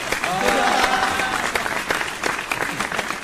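Audience applause for actor Sander Blanco, who plays Mark Cohen in a production of Rent, a loud continuous crowd clapping filling the full three seconds with a few louder individual claps.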